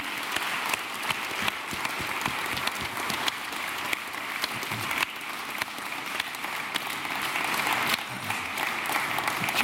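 An audience applauds the winner of a Dragons' Den style pitching competition at an education summit, with steady dense clapping throughout that stays strong and even from start to finish.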